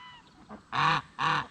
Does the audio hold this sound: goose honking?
yes